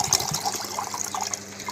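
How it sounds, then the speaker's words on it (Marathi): Coconut water from a freshly cracked coconut pours into a small metal pot, a close, splashy trickle with bubbling gurgles, no voices. "बघ तांब्या भरून पाणी निघालं"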